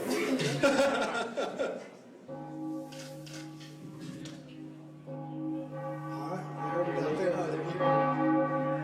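A large ceremonial bell rung at a school class event, its sustained metallic tones ringing repeatedly with long overlapping decays while people chuckle and talk nearby.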